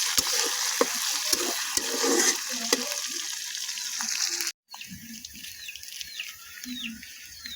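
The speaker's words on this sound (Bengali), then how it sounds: "পেঁয়াজ এবং মশলাগুলো দিয়ে নাড়াচাড়া করে নিতে হবে গরম তেলের মধ্যে।" Onions and spices stirred in hot oil, a steady broad hiss of frying with soft scraping stirs throughout, broken by a brief silent gap midway before the sizzle resumes at close range.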